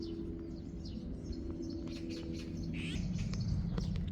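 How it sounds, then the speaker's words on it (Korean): Birds chirp and sing in a forest, several short tweets and trills over a steady low background rumble that grows slightly louder toward the end. "숲속에서는 아름다운 새소리가 들려옵니다."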